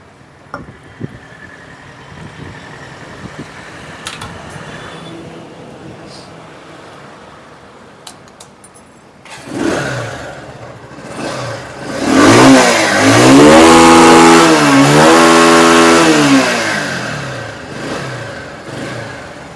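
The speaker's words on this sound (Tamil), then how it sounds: "இப்போ நம்ம வண்டி ஸ்டார்ட் பண்ணி பார்க்கலாம் எப்படி இருக்குதுன்னு" A Bajaj Pulsar 150 motorcycle engine starts after a quiet stretch and then revs up loudly, the pitch rising and falling with several throttle blips before settling into a steady, strong run close by.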